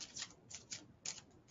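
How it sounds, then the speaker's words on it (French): A deck of cards being shuffled in quick, soft riffling bursts, five or six brushes close by and fairly quiet, with no voices. "je mélange les cartes"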